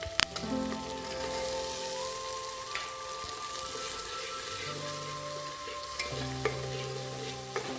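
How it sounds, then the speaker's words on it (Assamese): Peas with cashews and raisins are stirred while frying in a cooker for green pulao, a steady close sizzle with occasional scrapes and a short knock at the start, with no talking. "মটৰখিনি লৈ মই এইখিনি লৰাই দিলোঁ"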